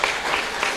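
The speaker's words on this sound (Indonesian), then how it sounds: "Kalau bojoku, boleh tepuk tangan." Audience at a Buddhist Dhamma talk clapping, a brief burst of dense applause from many people, fairly loud.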